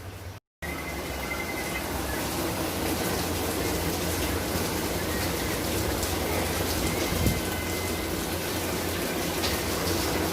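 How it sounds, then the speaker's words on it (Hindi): Heavy rain falls steadily outside a house, a dense continuous hiss after a brief cut at the start, with no voices. "बाहर पूरी बारिश हो रही है और ऐसी बारिश चल रही है हम लोग के घर इधर पे।"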